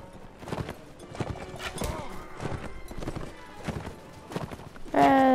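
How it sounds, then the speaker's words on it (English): Horses trotting in the Mount & Blade: Warband video game, a busy rhythmic clatter of hooves with a neigh at the very end, moderately loud and with no talking. "Elaine, everyone, mission orders, mount horses, please"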